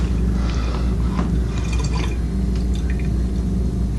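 Yeast soaked in warm water being poured into a homemade wine mix, a close, continuous liquid trickle with drips and splashes over a low steady background rumble.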